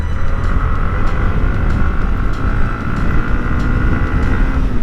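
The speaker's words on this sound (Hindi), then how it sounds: "तो चलिए थोड़ा पुल करके देखते हैं बाइक को।" A Yamaha MT 15 motorcycle accelerates hard on Palm Beach Road in Navi Mumbai, a loud, steady engine drone heard close up and mixed with heavy wind rush, with no speech.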